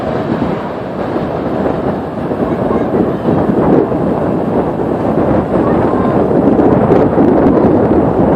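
Loud, steady wind rumbles against the microphone, gusting slightly but never letting up, with nothing else clearly audible.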